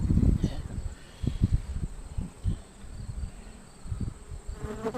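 Honeybees hum and buzz steadily at an open hive during an August inspection while pollen frames are lifted out, with nearby chatter and handling noises rising and falling over the constant insect drone.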